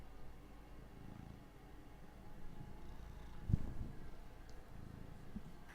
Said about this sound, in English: Do you hear her purrs?